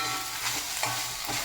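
Toor dal and grated coconut being dry roasted in a pan, a close, continuous dry rustling and scraping as the mix is stirred, with soft crackling over a short stretch.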